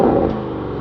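A brief, deep engine rev from outside a 2024 Porsche Cayenne Turbo GT SUV with a titanium center exhaust, loud at first and then settling into a steady rumble.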